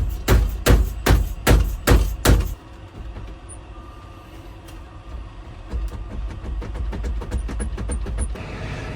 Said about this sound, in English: we're gonna use muscle and a mallet